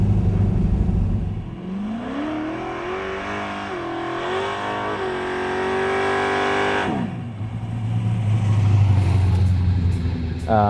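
A 1970 Pontiac Trans Am V8 revs hard under throttle, its pitch climbing in a long sweep, holding, then dropping before a deep idle-like rumble returns; loud and close throughout.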